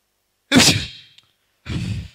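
Two breathy bursts, close and fairly loud, separated by a short pause, like a sneeze followed by a sharp exhale.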